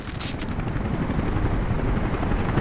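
A helicopter in the city-building video game Workers & Resources: Soviet Republic gives a steady, loud, dense rotor whir and engine rumble throughout, with no talk.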